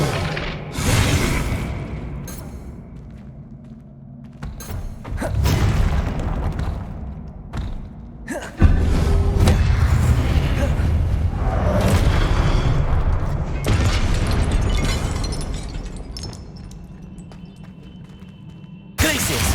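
Flipendo and Depulso spells are cast in the Hogwarts Legacy video game, setting off a string of loud, deep booms and blasts that roll into one another with hardly a pause.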